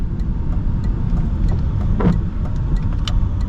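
A BMW E46 drift car engine runs steadily at close range, a low rumbling drone with light clicks and ticks scattered over it.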